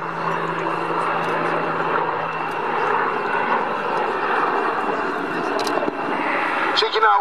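An AH-64 Apache attack helicopter performs maneuvers at the Luchtmachtdagen 2013 military airshow, its steady engine and rotor roar filling the whole stretch while commentators talk over it.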